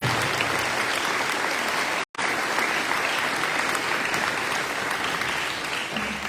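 Loud, dense applause from a crowd at a high school athletic banquet honoring coaches, sustained clapping with a brief dropout partway through, continuing steadily to the end.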